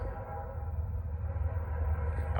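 A Norfolk Southern freight train rolls past northbound with a steady low rumble of railcars and wheels, moderately loud and continuous throughout.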